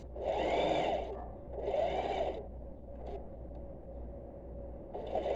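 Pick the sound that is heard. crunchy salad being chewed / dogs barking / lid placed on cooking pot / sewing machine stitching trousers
sewing machine stitching trousers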